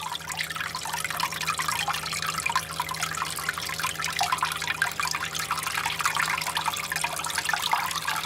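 Water flowing steadily, its rate raised with a valve on a cone-shaped separating setup for fine material, a constant bright splashing trickle close by without pause and no talking.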